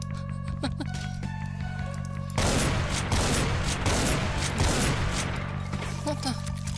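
Gunfire in the video game Brutal Doom, a sustained rapid burst of shots that starts abruptly partway through, loud over a humming game-music background, with a voice speaking briefly.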